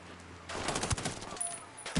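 Loud gunfire in the tactical shooter Ghost Recon, a rapid burst of close, punchy shots packed into under two seconds, ringing over background game ambience.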